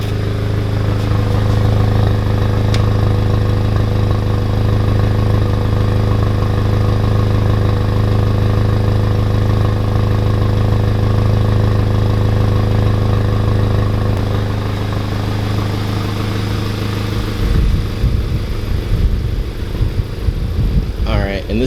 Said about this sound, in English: Now I'm going to let you guys listen to the idle while it's closed.